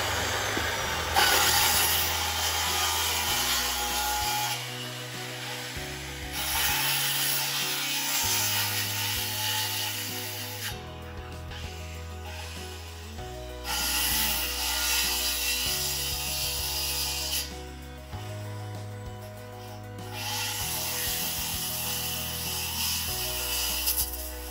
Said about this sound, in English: if you're good with a circular saw, this is a really good method